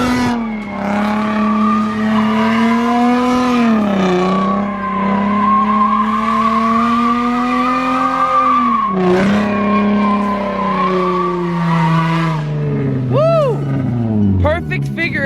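A Nissan Z drifts through a figure eight, its tires squealing in long, loud, wavering howls that rise and fall with the engine's revving across the whole run, ending in a sharper squeal burst.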